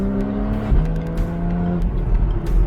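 A 2015 Porsche 911 Carrera 4S with its six-cylinder engine drives past, a strong engine tone shifting in pitch as it changes revs, with a faint tyre squeal and steady road noise, loud and close.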